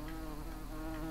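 A wasp buzzes close by with a steady, continuous drone that stays at an even loudness through the brief moment.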